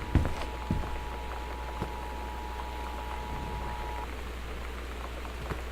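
Steady rain with a low wind rumble surrounds a house in the game Gone Home, a continuous even wash of patter with a few faint clicks and no voices.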